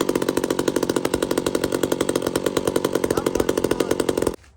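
An old chainsaw with a round chain runs at a loud, steady roar, its rapid pulsing engine close by for about four seconds before it cuts out abruptly, with no voices.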